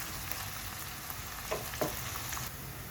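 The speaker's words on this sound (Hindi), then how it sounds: "पहले प्याज़ों को तेल में फ्राई कर लेते हैं" Onions frying in oil in a pan for baingan bharta, a dense, even hiss of sizzling up close with a couple of faint clicks, no voices.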